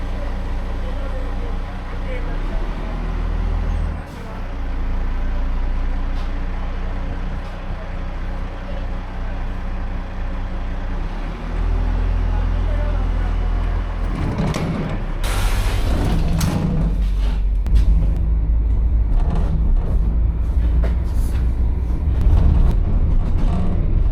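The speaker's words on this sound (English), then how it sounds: "Now that our locomotive is ready to go, let's hop aboard for departure and the start of this fantastic adventure." A locomotive pulls away on the Budapest Children's Railway with a steady low engine rumble that continues throughout, then grows busier and louder with clanks and bursts in the second half.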